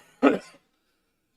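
A single sharp cough, close to a microphone, short and loud, followed by silence.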